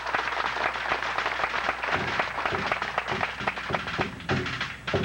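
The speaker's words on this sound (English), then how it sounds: "what about a big round of applause to welcome our dancers" Steady applause from a crowd at a Christmas party, dense clapping filling the whole stretch with a few louder claps near the end.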